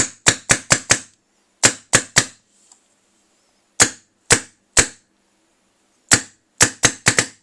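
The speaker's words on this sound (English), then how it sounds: "now the gun's doing a good full stroke" A Luxe 2.0 paintball marker cycling through full strokes, sharp close mechanical snaps in quick bursts of three to five with brief silent gaps between, no voices.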